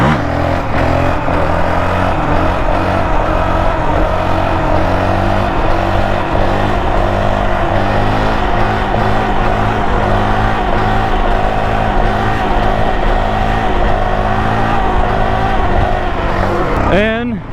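A 2023 Honda CRF450X dirt bike fitted with a Vortex ECU runs loud and close, its engine note droning and slowly climbing in pitch before cutting off sharply at the end.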